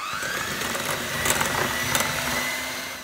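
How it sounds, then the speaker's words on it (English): A handheld electric mixer whirs steadily and evenly while creaming cheese and butter for cheese biscuits, with a continuous close motor hum and faint scraping rattles. "Now I'm going to use a handheld mixer and we're going to mix the"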